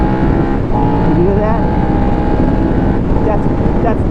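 A motorcycle engine revs steadily in third gear, a loud continuous drone with rising pitch sweeps, heard up close under wind buffeting while someone talks over it.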